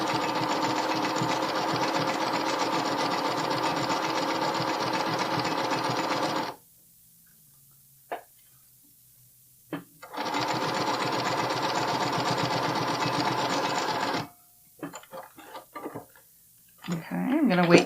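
A sewing machine stitches elastic onto a bralette in two fast, steady bursts of several seconds each, separated by silence and a few small handling clicks, close and loud.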